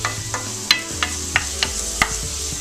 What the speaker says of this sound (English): to my pan here, I've just added some olive oil, maybe just about a tablespoon, and I'm going to add 2 diced shallots to that